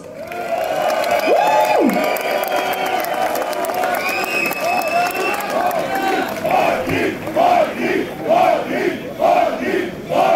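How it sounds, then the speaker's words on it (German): A large crowd roars and cheers loudly, with applause throughout and rhythmic group chanting building toward the end. "Einen dicken Applaus!"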